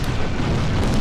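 A loud, booming explosion in the Twisted Metal 4 vehicular combat video game, a dense blast of noise that fills the whole second without any speech.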